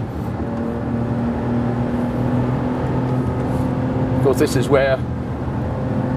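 Bentley Continental Supersports with a 620-horsepower engine at speed on a racetrack, steady loud engine drone and road roar throughout, with someone speaking briefly over it near the end.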